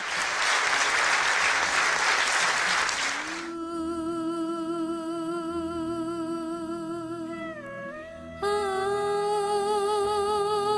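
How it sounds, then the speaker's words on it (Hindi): Audience applause for a female singer at a televised 2011 Defense Day stage show, a dense, loud wash of clapping lasting about three seconds before it gives way to music and sung vocals. "आपकी बहुत सारी तालियों में"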